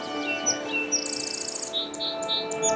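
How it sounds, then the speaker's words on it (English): Bright, high chirps and short tweets from birds, fairly steady and close, with a faint background hum underneath. "You can hear the birds outside sometimes"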